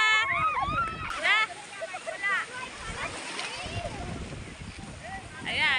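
Water splashing and sloshing as people swim, with excited voices and shouting throughout, lively and fairly close.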